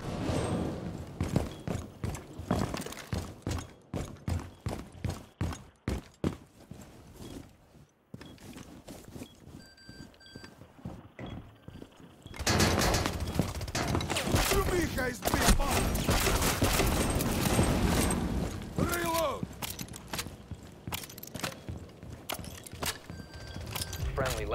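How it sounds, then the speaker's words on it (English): Rapid bursts of grenade fire and explosions in the shooter game Rainbow Six Siege, repeated thumping reports with footsteps and gunfire, a brief lull, then a denser, louder stretch of combat with voices talking over it. "Firing grenades!"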